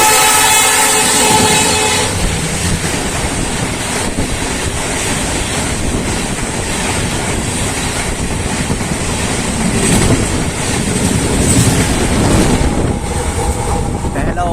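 A train pulls out of Haridwar station with a sustained horn blast at the start, then a steady rumble and rattling of carriages building into rhythmic clatter, loud and close with no talk.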